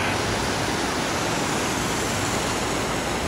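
A small waterfall on a river in Oidaira Park, Toyota, Aichi, Japan, gives a steady broadband rush of falling water, loud and even throughout with no voices.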